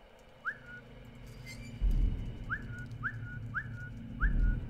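A player character in the stealth game Velvet Assassin whistles a short rising note five times at a steady pace, clear over a low rumbling background with occasional thuds.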